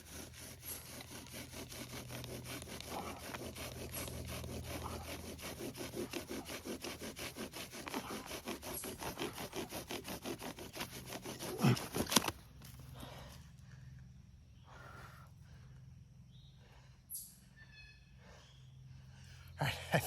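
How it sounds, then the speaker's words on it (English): A primitive friction fire drill spindle grinds against a flimsy book, producing a rapid rhythmic sawing rasp for about twelve seconds, then scattered soft bumps and rustles. "just that spindle kicking out because the the book is so flimsy"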